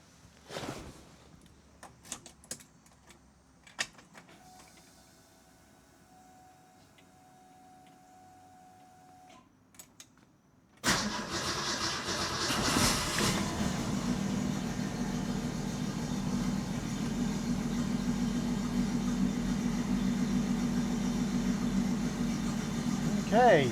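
A 1967 Ford Mustang engine on Holley Sniper fuel injection cranks and catches after a quiet stretch of small clicks and knocks, then settles into a steady, close, rumbling idle.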